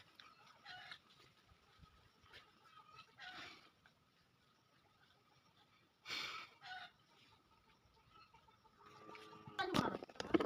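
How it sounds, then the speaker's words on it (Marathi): Faint, scattered clucks from chickens at a distance in a quiet setting, with a louder bird call near the middle and some handling noise at the end. "हे आपल्या कोंबड्या आहेत"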